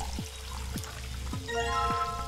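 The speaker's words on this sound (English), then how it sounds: "Gotta get some water of the empty jar, huh?" Water pours into an empty jar as a sound effect in the video game Zero Escape VLR. Several short gurgling splashes repeat, ending in a rising filling tone, loud and alone.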